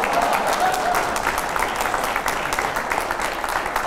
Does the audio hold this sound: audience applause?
yes